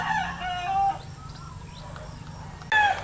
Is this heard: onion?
no